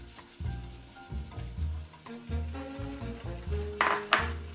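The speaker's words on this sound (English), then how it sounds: "Just put it in there, but whisk as you're going." Polenta is whisked into a pot, with a whisk clinking and scraping against the metal in a quick, uneven rhythm and a bright metallic clatter near the end.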